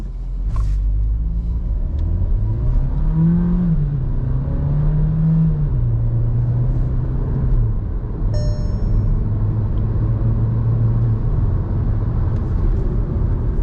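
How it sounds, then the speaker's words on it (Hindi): A Volkswagen Taigun GT Plus accelerates from 0 to 100 in normal drive mode, its engine note rising and shifting through several gears over a low, steady road rumble, with no talking. "नॉर्मल ड्राइविंग मोड में 12 सेकंड में ये पहुंची है 0 से 100"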